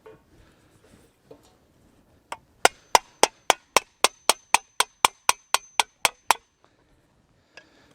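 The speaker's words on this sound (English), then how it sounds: "what I'm doing is I'm stretching the metal here on the center, flattening it" Metal lid for a birch bark oil container being hammered to stretch and flatten its center: about sixteen sharp, evenly spaced ringing blows close up, preceded by a few soft handling knocks.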